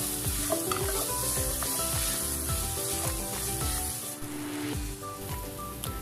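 Spices and vegetable filling sautéing in a pan for spring rolls, a continuous close sizzle broken by repeated scraping stirs of a spatula, loud and steady without any talking.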